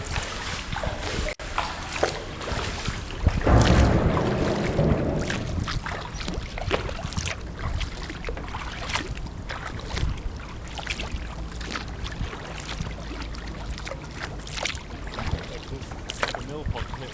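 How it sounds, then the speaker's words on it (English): Small waves lapping at the edge of a flat mill pond as wind gusts across the mic, a steady watery wash with rustling buffets and no clear talk. "Just the waves."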